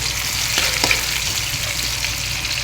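Garlic and onion sauté in a hot pan, a continuous close sizzle with a few soft stirring knocks and no talking.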